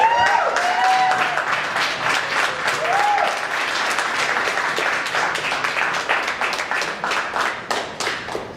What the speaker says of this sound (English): If we could have a round of applause for all the members of the Poetry and Art Club